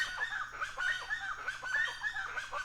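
Outdoor birds chatter and call continuously at moderate distance, a dense layer of overlapping chirps and warbles with a low steady hum underneath and no voices.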